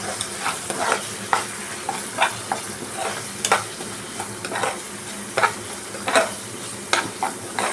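Ground cumin and coriander are stirred into spices frying in oil for a catfish curry. A low sizzle runs underneath while a utensil scrapes the pan in a steady rhythm of short strokes about every half second. No voices are heard.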